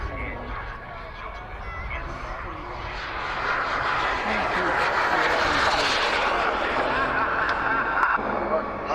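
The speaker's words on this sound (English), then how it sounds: "it's Azza, the Havoc, Jet Italian 250." Havoc model jet, a Jet Italian 250, flying at a model air show, a loud steady whooshing turbine roar that swells as it passes, with an announcer talking over it.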